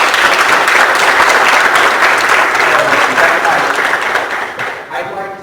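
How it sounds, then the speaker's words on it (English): An audience at a political candidate forum claps loudly and continuously in a dense wash of applause that tapers off toward the end. "Give yourselves a big round of applause for being here."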